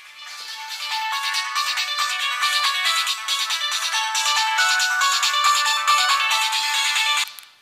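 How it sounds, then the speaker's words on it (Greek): A telephone ringtone plays loudly for an incoming call, a bright repeating electronic melody running steadily for about seven seconds before cutting off, with no talking over it. "να απαντήσουμε στον κύριο Αγγελόπουλο που μας παίρνει τηλέφωνο"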